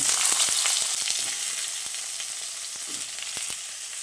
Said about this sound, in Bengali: এবার ওই তেলে বেগুনগুলো দিয়ে দিচ্ছি